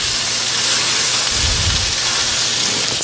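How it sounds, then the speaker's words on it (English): A thick cut of steak sears in a hot pan with a loud, continuous sizzle and hiss that stays steady up close throughout. "I'm going to go ahead and start searing them off on the sides."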